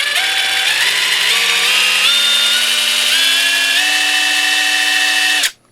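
ALLOYMAN 1/2-inch drive cordless impact wrench spinning freely, its motor whine stepping up in pitch through several speed settings before cutting off abruptly, loud and close with no talk.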